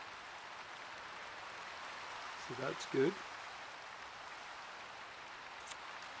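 Steady Minecraft rain falling as a soft, even hiss that runs unbroken through the clip, with a brief spoken remark partway through.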